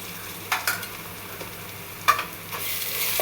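Ginger paste and ground spice paste fry and get stirred in a pan for a beef bhuna, a soft continuous sizzle broken by a few sharp spoon scrapes, quiet and close with no talk.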